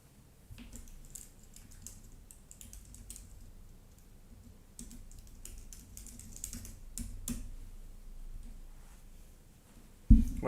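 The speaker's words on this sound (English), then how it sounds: "Sorry folks, I'm typing something." Keys clatter on a computer keyboard in scattered, uneven bursts, fairly close and moderately quiet, with a louder thump right at the end.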